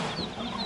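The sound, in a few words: chickens clucking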